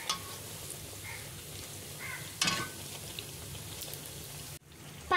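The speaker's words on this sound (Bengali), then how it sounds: "পাকোড়াগুলো উল্টো পাল্টে ভেজে নিতে হবে" Rice pakoras fry in hot oil with a steady, soft crackling sizzle, broken by a brief louder burst of spattering partway through, then a quieter stretch.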